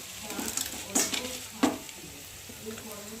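Vegetables and broken chowmein noodles stir-fry in a pan, a soft sizzle with a couple of sharp spatula clinks against the metal, fairly quiet and close.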